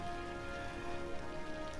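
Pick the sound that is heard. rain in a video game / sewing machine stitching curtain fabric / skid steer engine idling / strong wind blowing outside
rain in a video game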